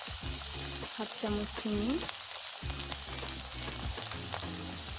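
Masala spices with turmeric and salt frying in oil for a tamarind fish curry make a continuous soft sizzle, with someone speaking over it.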